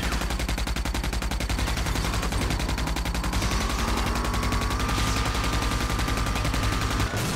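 A minigun in the video game Rage fires a continuous, dense, rapid stream of loud rounds that runs unbroken and close for the whole stretch.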